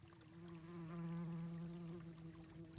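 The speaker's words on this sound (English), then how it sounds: "I hear buzzing." Faint buzzing of insects in the DOS adventure game Dragon Lore, a low steady droning hum with soft overtones, quiet and continuous with no talk.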